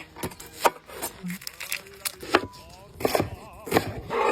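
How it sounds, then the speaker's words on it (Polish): A knife chops an onion on a wooden board with a run of quick, close, irregular knocks; a faint voice is heard briefly between the cuts. "Kroimy cebulę."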